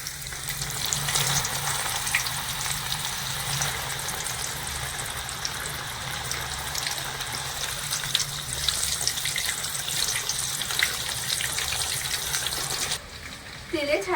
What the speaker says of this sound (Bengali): এবারে এখান থেকে আমি কিছুটা ডাল নিয়ে নিচ্ছি এবার তেলের মধ্যে ছেড়ে দেবো